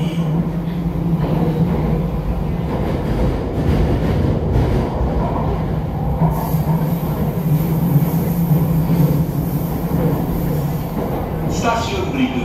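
Jakarta MRT subway train running between stations, a steady loud rumble and roar of wheels and motors with a low hum throughout, while onboard announcements play over it.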